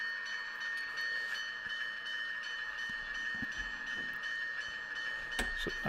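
A freight train with a covered hopper car rolls past at a switching yard, giving a steady mid-distance rumble with a sustained high whine and occasional wheel clicks and clanks, with no talking.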